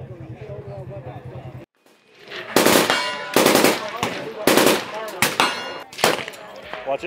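A machine gun on full auto at an outdoor shooting event fires in loud, close bursts of rapid shots, separated by short pauses, after a stretch of background chatter.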